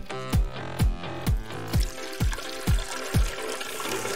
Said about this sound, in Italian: Poi ci verserò sopra dell'acqua.